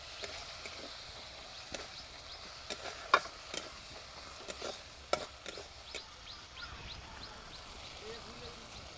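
Spice paste with turmeric and chili powder sizzles softly in a pan while being stirred, with faint scraping clicks from the spoon at intervals, close and quiet.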